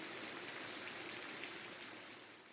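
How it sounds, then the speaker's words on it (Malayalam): Heavy rain pouring steadily on a rainy day, a dense continuous wash of water noise with no gaps, close and fairly loud throughout, easing only slightly toward the end. "ശക്തിയായിട്ടുള്ള മഴയാണ്."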